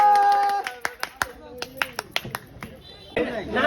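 A few people clap for the winner of a casual home game, sharp separate claps in an uneven rhythm following a voice, with a burst of noisy clatter near the end.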